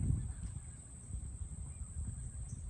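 Geese out in a residential yard give faint, low honks at a distance, a soft irregular gabble over quiet outdoor background with no one speaking.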